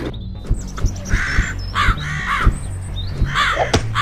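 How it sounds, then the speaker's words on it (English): Several crows caw harshly over and over, overlapping one another, loud and close, with a few faint sharp knocks underneath. "Where did all these crows come from?"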